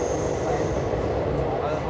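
Saryu Express (train 14234) pulling out of Ayodhya Dham Junction, a steady loud rumble of wheels and carriage noise heard from on board, continuous throughout with faint voices mixed in.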